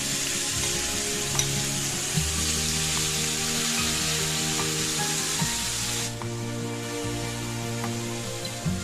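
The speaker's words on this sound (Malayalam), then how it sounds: "ഇതൊന്ന് നന്നായി ഫ്രൈ ചെയ്യണം. ഹൈ ഫ്ലെയിമിൽ ഇട്ടിട്ട് ഇതിലുള്ള വെള്ളമൊക്കെ വറ്റി വരുന്നത് വരെ നന്നായി ഇളക്കി കൊടുത്തുകൊണ്ടേയിരിക്കണം." Marinated chicken fries and sizzles loudly in a pan on high flame, a steady close hiss with occasional stirring clinks, heard alone.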